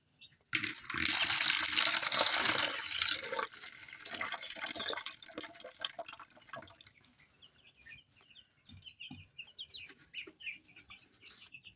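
Tap water pours loudly into a 6-liter container for about six seconds, then shuts off, leaving faint drips and handling noises, with chickens clucking in the background.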